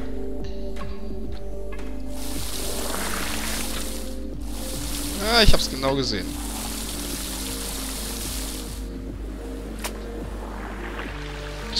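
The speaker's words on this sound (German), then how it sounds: "kann ich diese Tanks da füllen?" Water pours into tanks in the video game Vessel, a steady rushing wash that runs through the whole stretch, with a person speaking briefly over it midway.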